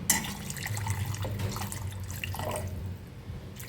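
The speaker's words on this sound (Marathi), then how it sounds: "हे दोन ग्लास आणि दीड ग्लास पाणी ओतले मी" Water poured from drinking glasses into a cooking pot for a home-cooked curry, giving a close, splashing trickle with drips that tails off near the end; no one speaks.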